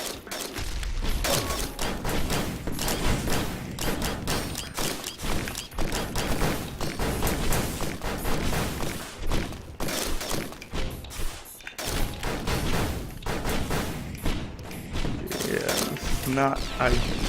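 Missile explosions in the video game Risk of Rain come as dense, continuous booms and thuds layered with game music and effects, with a player talking over the barrage throughout.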